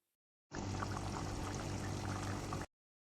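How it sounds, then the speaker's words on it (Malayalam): Cornflour slurry poured into a simmering creamy white vegetable stew, a steady continuous liquid pour lasting about two seconds, close and fairly quiet, with no talking. "കോൺഫ്ലോറിന്റെ സിറപ്പ് ഇതിലോട്ട് ഒഴിച്ചു കൊടുക്കാം"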